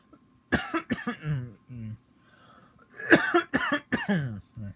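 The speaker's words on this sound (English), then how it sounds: "Don't mind me coughing in the background." A person coughs several times in short bursts, close to the microphone, with brief pauses of quiet between the fits.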